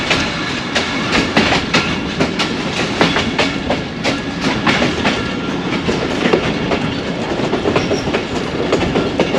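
A train runs along a branch line track between Lahore and Narowal, its wheels beating out a steady, loud clickety-clack with sharp repeated rail joint clicks over a continuous rumble, heard alone.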